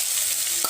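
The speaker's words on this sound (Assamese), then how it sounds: "এই আলুখিনি অকণমান সময় মই ভাজি লম" Potatoes sizzle in hot oil with chopped tomatoes and ginger-garlic paste, a brief steady frying hiss with a single stirring clink near the end, close and alone.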